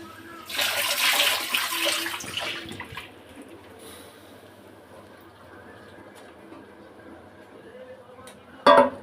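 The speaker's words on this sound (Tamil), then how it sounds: "தண்ணி வந்து மூணு செம்பு ஊற்றிக்கிறோம்" Water poured into a cooking pot for tomato rice, a splashing gush for about two seconds followed by quieter background and a sharp clank near the end.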